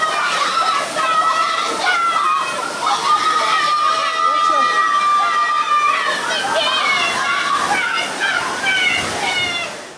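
Floodwater rushes through a debris-filled gully after heavy rain in Jamaica, giving a steady loud churning slosh that runs unbroken throughout.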